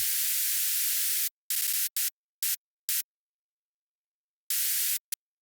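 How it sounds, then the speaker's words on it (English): Bursts of bright synthesized hiss switch on and off in a choppy rhythmic pattern, a noise layer gated into hi-hat hits in a bass house track. "I have a noise to add some hi-hat"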